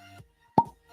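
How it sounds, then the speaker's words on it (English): A cork pops out of a Maker's Mark bourbon bottle, a single short, sharp plop standing out against near silence. "let's get the cork pop."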